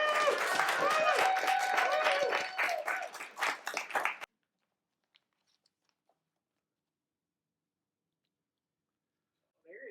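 A poetry slam audience at the White Plains Public Library applauds and cheers for about four seconds, a dense patter of claps mixed with voices. The noise then cuts to near silence, broken only by a few faint ticks and a brief sound at the end.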